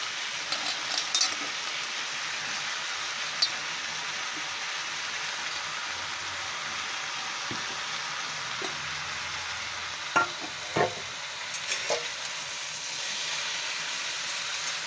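Potatoes and pointed gourd slices frying in a pan as a bati chachchari, a soft continuous sizzle broken by a few scattered scrapes and clinks of stirring.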